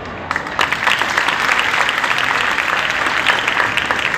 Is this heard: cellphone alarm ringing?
no